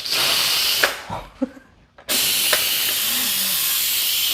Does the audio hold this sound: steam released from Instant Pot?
yes